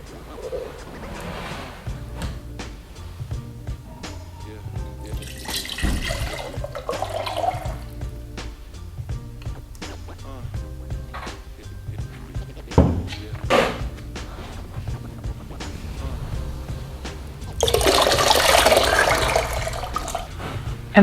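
Liquid glaze pours into a handmade pottery teapot with the spout blocked, a steady watery trickle and splash running throughout, building into a louder rushing pour near the end.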